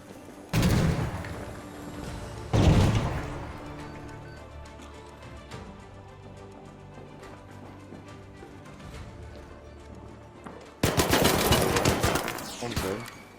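Burletta pistol gunfire in the video game Arc Raiders, a few loud sharp blasts with rumbling tails spread across the stretch, under a steady game background with voices talking.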